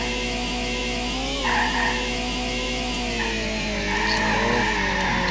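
Tires squeal and skid through a curve in a futuristic racing video game, a sustained, loud screech layered over a steady engine drone with no voices.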